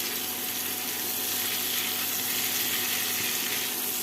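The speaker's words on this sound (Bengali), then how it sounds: "এই যে আলু ভাজতে দিয়ে দিয়েছি" Potatoes frying in oil in a wok for aloo dum give off a continuous, dense sizzling hiss, close and fairly loud, steady throughout with no voices.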